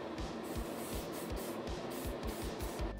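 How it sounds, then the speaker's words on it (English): Clear coat sprayed from a can over decals on a restored SIKU VW Porsche 914-6 diecast model, a steady airy hiss with soft rhythmic pulses, close and fairly loud with no voices. "these decals can be locked in with a clear coat"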